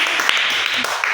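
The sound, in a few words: children clapping hands loudly in class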